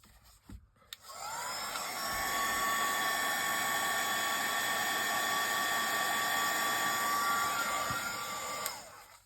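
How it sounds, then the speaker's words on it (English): A heat tool blows on a stamped card to evaporate alcohol, switching on with a rising whine into a steady, whirring fan roar at close range before cutting off after several seconds. "I can just put my heat tool onto it."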